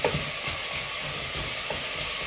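Carrots and potatoes sauté for afritada, a steady, close hiss of frying with faint stirring scrapes running throughout.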